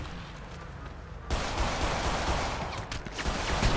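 Rapid, loud gunfire erupts in a GTA roleplay game, a dense barrage of overlapping shots that starts suddenly and keeps rattling without pause.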